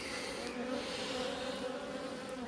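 Honey bees buzz continuously around small nucleus colonies, a close, steady hum with a slightly wavering pitch and no talk over it.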